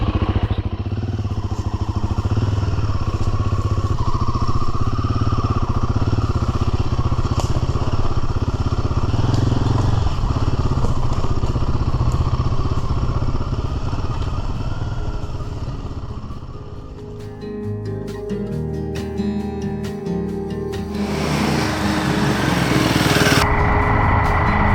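A Royal Enfield Himalayan motorcycle rides along with a steady close engine drone and road rumble, easing off near the end as clattering and wind buffeting take over.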